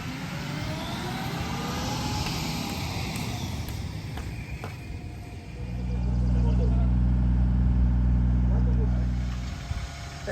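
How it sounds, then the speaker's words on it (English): A concrete truck pulls up for a residential driveway and patio pour, its deep diesel rumble swelling close and loud over the outdoor ambience before tapering off. "The truck is here."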